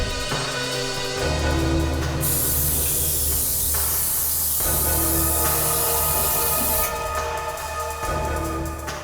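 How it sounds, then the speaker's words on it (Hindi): A liquid is sprayed onto an air conditioner, giving a long, loud continuous hiss that runs for several seconds over a steady tonal musical background, with no speech. "क्या जरा इस पे स्प्रे करना।"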